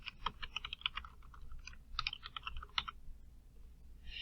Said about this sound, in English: I'm going to type in Workforce Centers in A1.